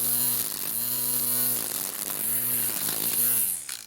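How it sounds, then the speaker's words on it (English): A Natiddy cordless weed trimmer cuts through thick weeds, its loud close whine rising and dipping in repeated bursts as the line bogs in the heavy growth. "the weed whacker cuts it down where the lawnmower often just bends it over"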